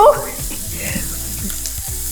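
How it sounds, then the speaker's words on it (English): Ham frying in its own rendering fat gives a steady sizzle that crackles and hisses throughout, close and constant, with faint scraping underneath. "we are just going to cook up some of our ham, and we just render in the fat"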